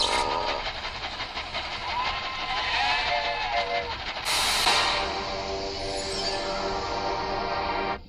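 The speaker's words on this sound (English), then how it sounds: "It's an electric train. It has 2 rails." An electric model train running on a two-rail track rumbles and clatters steadily for several seconds, with a shrill whistle rising over the running noise midway, and no talking.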